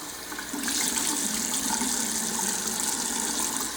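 Cold water runs steadily from a bathroom tap, a close, continuous hiss and splash with no talking.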